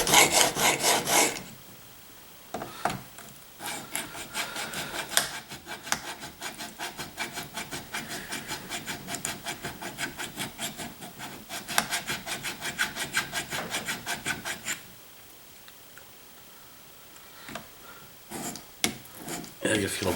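A steel chisel is sharpened by hand, making rhythmic rasping strokes back and forth in fast, even bursts with short pauses between sets, close and clear, with a voice speaking at times.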